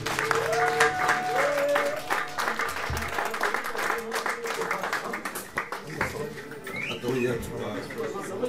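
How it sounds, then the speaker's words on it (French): A concert audience applauds and cheers in a dense, sustained wash of clapping while a voice speaks and musical tones ring over it, the clapping thinning gradually toward the end. "applaudissez pour vous-même"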